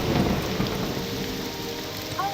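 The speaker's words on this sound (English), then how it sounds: "it had to load in a thunderstorm." Thunderstorm in the game Morrowind with the Tamriel Rebuilt mod: steady heavy rain hiss with a low thunder rumble, loud and continuous, no talk.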